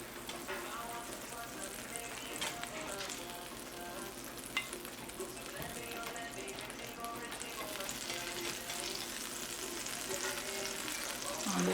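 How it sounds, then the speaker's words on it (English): Butter sizzles and crackles in a frying pan on the stove, a steady bright hiss with occasional stirring scrapes that carries on throughout, close to the pan. "let's add again a little butter on the other pan"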